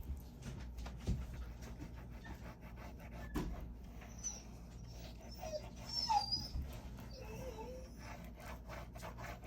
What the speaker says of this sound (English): There's my crazy dog. That's just my crazy dog.